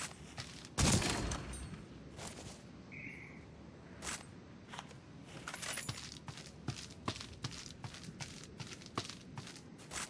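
Rapid gunfire from shooting in the VR zombie shooter World War Z, a loud burst near the start followed by a steady run of sharp repeated shots at irregular spacing, with no voices.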